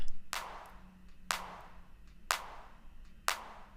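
Four evenly spaced, punchy electronic-music clap samples ring out alone, about one per second, each with a sharp attack and a short, compressed tail.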